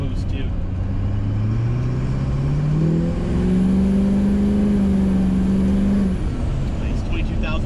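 A pickup truck with a swapped-in Duramax diesel engine pulls away on a test drive, its engine droning loud and close as the revs climb and hold high, then settle, with a steady rumble throughout.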